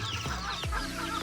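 Caged chickens give a few short, close clucks in a quick burst, with no talking.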